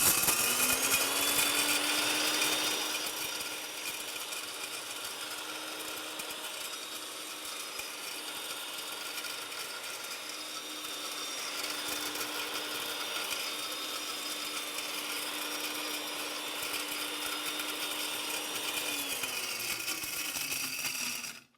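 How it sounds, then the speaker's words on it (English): A grinder runs steadily while organic fruit tea is being made, giving a loud continuous mechanical whir with a fixed tone that holds for about twenty seconds before stopping abruptly. "And the grinder is a bit noisy"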